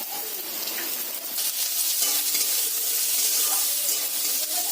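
Chopped onion frying with browned potatoes in a pan gives a steady, close sizzle that holds loud and even throughout, with no one talking.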